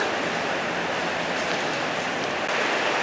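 Steady rain falls outdoors, a dense, even hiss of drops on surfaces that holds at a constant level throughout, with no voices.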